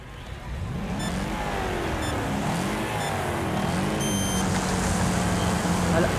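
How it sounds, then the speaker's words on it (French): Race car engines in the Wreckfest video game rev and drone together in a loud, continuous wash of motor noise with rising and falling pitch, sounding close and dense for several seconds. "on dirait quand même que les sons des moteurs sont assez forts"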